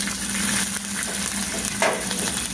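Ingredients frying in a pan for potato masala, a steady bright sizzle with a soft stir or shift partway through, continuous and close without talking.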